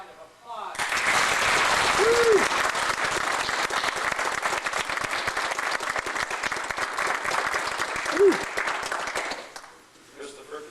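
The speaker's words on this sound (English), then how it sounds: "Big round of applause." A crowd applauds warmly for several seconds at an honorary Golden Helmets welcome ceremony in Orillia, Ontario, the clapping rising sharply, holding steady and then tapering off, with a couple of brief whoops over it.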